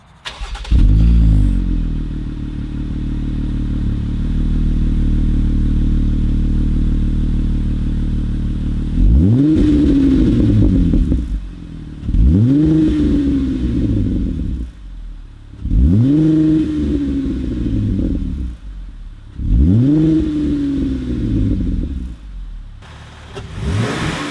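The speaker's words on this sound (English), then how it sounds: "get a nice little driving shot and an exhaust clip" A deep V6 Jeep exhaust with a K&N intake drones at idle, then revs up in four repeated surges, each rising and falling as the vehicle accelerates, loud and close.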